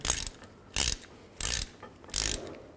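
A ratchet socket wrench tightening a rear sway bar link bolt on a 1996–2004 Nissan Pathfinder, four quick bursts of close, crisp clicking ratchet strokes with short pauses between them.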